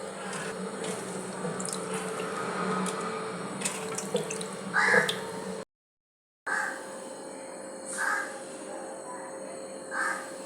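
Fish being washed under a running tap at an outdoor sink, with steady splashing water and bursts of handling, while crows caw in the background; the sound briefly cuts out midway.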